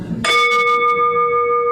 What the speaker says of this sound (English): by ringing the bell, I open the meeting